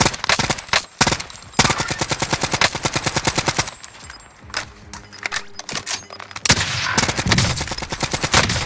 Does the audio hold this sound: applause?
no